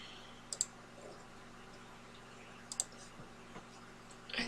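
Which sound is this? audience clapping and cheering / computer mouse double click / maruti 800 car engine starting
computer mouse double click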